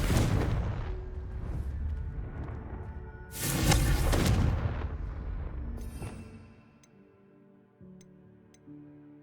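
Confringo fire spell in Hogwarts Legacy, deep booming explosive bursts with a sharp blast near the middle, then the rumble dies away into quiet game tones and ticks.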